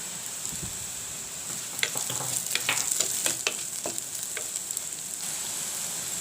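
Onion frying in a pan with fennel and fenugreek seeds, for a village-style egg curry: a soft background sizzle that swells into a burst of quick crackles and pops, then settles back to a gentle hiss.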